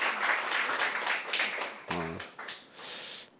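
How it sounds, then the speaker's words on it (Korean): Church congregation clapping to welcome a first-time visitor, a scattered, moderately loud patter over about three seconds, with a short voice breaking in near the middle. "오늘 주인공은 저분인데 박수 한번 보내주십시오."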